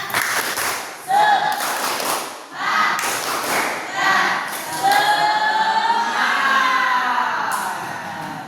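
A school class performs a rhythmic spirit clap together, bursts of unison clapping and thumps with children chanting and shouting in between, loud and close in a classroom.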